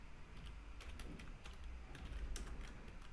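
Steady clicking of computer keyboard keys as code is typed, a continuous run of light, close taps with a few sharper strokes, no voices.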